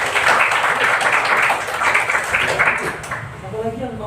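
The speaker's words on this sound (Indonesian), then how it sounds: "tepuk tangan dulu" Students in a classroom clap briefly, a short patter of hands that runs under a teacher's voice and dies away after about three seconds.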